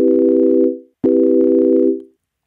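A smooth sine-wave synth pad with no attack starts abruptly at full volume, holds steady, then fades out, followed by a second sustained tone with the same instant, hard start.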